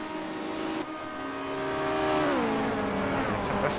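Touring race cars on the straight at Barcelona in the 1990 World Touring Car Championship: a steady multi-toned engine drone whose pitch sweeps downward midway as a car passes, then another rising roar near the end.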